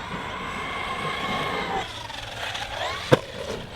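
A Maverick Quantum+ XT Flux RC truck on 2S runs at full speed, its electric motor whining at a steady pitch that later shifts, with one sharp knock near the end.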